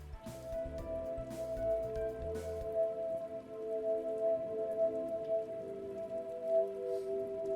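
Rain patters steadily on surfaces in the Rain World video game, soft and continuous beneath a sustained low musical hum, with a few brief thumps early on.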